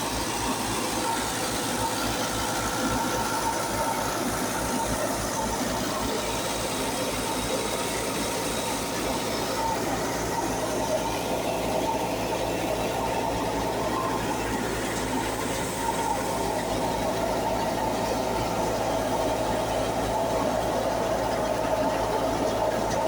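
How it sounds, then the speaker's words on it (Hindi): A tractor-driven wheat thresher runs steadily at a village harvest, a dense continuous mechanical roar with rhythmic low engine pulsing throughout, loud and close with no pauses. "ये मैं करीब जाकर आपको थ्रेशर दिखाता हूँ। ये ट्रैक्टर है।"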